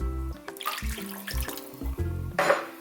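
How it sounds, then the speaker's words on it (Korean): Clam broth pours into a cooking pot for a steamed shrimp and Manila clam dish, producing a short run of splashing liquid with a few clinks against the pot. "바지락 육수도 한 컵, 흐르니까 한 컵 반 정도."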